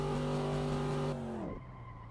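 Simulated car drifting in Assetto Corsa, a loud sustained engine note with tire squeal that drops in pitch and fades as the slide ends, no talk.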